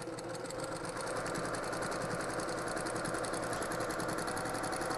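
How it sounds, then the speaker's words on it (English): A sewing machine stitches quilt fabric at a medium pace in a steady, rapid mechanical whir with even needle pulses, close and uninterrupted, no talking. "I'm gonna sew about 6 to 8 inches at a time"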